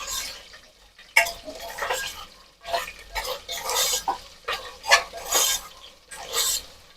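Green chillies frying in a pan while being stirred, giving intermittent bursts of sizzling and scraping at close range with brief pauses between strokes and no talk.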